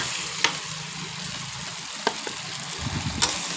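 Stir-frying food in a pan, Thai style, before young chilies and basil go in: a steady, close sizzle runs throughout, with a few sharp clicks of a spatula against the pan.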